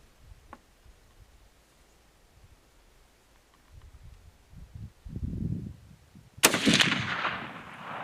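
A Remington 700 BDL Custom .30-06 rifle, fired from a semi bench rest stock, lets off a single loud, sharp shot with a rolling decay after several seconds of quiet handling rustle.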